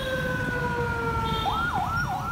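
An ambulance siren sounds on a street, a loud steady tone that shifts into a rising and falling wail, close by and over low traffic rumble.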